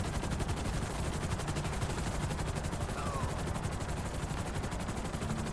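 Rapid bursts of automatic gunfire in Grand Theft Auto V, a steady dense rattle of shots near the docks with helicopter-like drone underneath, continuous and loud throughout.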